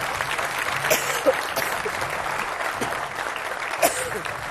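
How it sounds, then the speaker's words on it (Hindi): A studio audience at a Hindi political debate show claps steadily to welcome guests, an even wash of applause with a few sharper individual claps standing out. "तालियों के साथ बहुत बहुत स्वागत"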